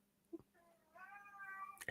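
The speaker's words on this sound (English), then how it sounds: "sorry, my cat is meowing." A house cat gives one long, drawn-out meow that rises and wavers in pitch, fairly faint indoors, with a brief click before it and no talking.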